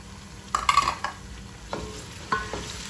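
A spoon stirs and scrapes through frying tomatoes in a pot while cooking yakhni pulao. A few distinct scraping strokes sound close by over a soft sizzle, with no talk.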